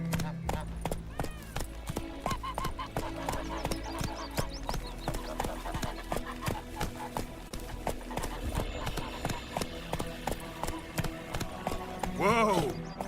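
Roach the horse gallops in The Witcher 3, steady rapid clip-clop hoofbeats running throughout, with game music and occasional voices talking over them and a brief whinny near the end.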